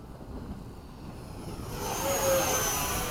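An 80mm FMS Hawk RC jet on a gear-down pass at a flying field: a steady ducted-fan whoosh that swells louder toward the end as the model approaches and passes.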